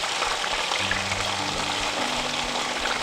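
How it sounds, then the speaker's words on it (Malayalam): Chicken 65 deep frying in hot oil over a high flame, giving a steady, dense sizzle and crackle that holds evenly close up for the whole stretch, with no voices. "ആദ്യം നമ്മൾ ഹൈ ഫ്ലെയിമിലിട്ട് വേണം അത് ഫ്രൈ ചെയ്തെടുക്കാം."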